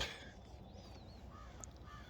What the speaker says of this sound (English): Listening to the birds come alive.